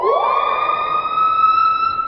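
A piha bird's call slowed down into a siren-like wail sweeps upward in pitch, then holds a loud, sustained, steady tone for about two seconds, alone.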